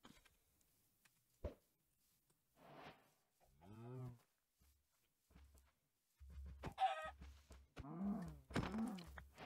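Chickens clucking in the Minecraft video game, a few short scattered clucks over about nine seconds, fairly faint, with no talk.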